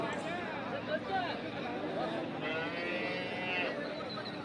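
Buffalo and cattle low at a busy livestock market while someone talks nearby and crowd chatter murmurs steadily in the background.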